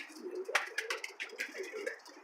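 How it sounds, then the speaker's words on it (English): Young pigeons inside a loft coo and shuffle close by, with soft repeated murmurs and a few sharp wing flaps or scuffs scattered through the short stretch. "Got a couple young birds in here."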